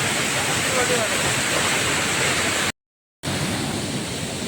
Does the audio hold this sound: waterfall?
yes